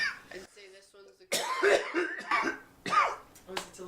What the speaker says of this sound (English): If I could stop coughing.